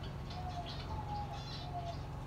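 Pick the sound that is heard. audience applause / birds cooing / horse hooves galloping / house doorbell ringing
birds cooing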